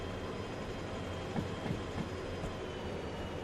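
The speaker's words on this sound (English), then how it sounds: "we're really trying to pull this heavy coal train through the mountains" A heavy coal train grinds uphill through mountains in the Derail Valley train simulator, its steady low rumble broken by a few faint knocks and clicks, with no voices over it.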